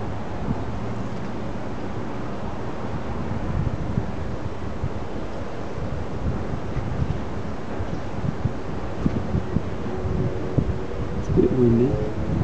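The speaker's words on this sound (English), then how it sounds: "It's a bit windy." Gusty outdoor wind buffeting the microphone in a steady, rumbling roar, with occasional louder thumps and a faint bird call near the end.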